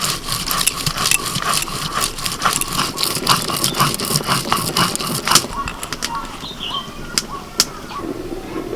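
Ginger and garlic being ground into a paste by hand, with a steady run of scraping, crunchy strokes close by while fainter background noise carries on underneath.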